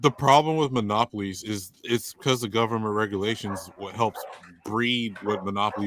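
Dogs bark somewhere in the background of a room while someone talks almost nonstop over them, the barking mostly buried under his voice.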